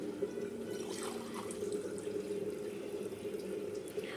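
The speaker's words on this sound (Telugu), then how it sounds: "దాంట్లో వచ్చిన వాటర్ కూడా యాడ్ చేస్తున్నాను నేను." Fresh coconut water is poured into a pot of coconut milk for pulao, a short, steady close trickling stream with no voices.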